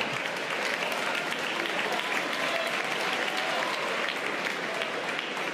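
A comedy-show audience applauds a stand-up comedian, steady dense clapping from a large crowd that fills the room evenly and continuously for several seconds.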